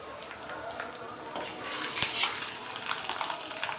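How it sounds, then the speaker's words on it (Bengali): Chopped garlic fries in oil in a kadai for a drumstick dal, a light crackling sizzle with a few spoon clinks and scrapes against the pan, close and moderately quiet. "রসুন কুচি দিয়ে ভালোভাবে এটা নেড়ে ব্রাউন কালার করে নিব।"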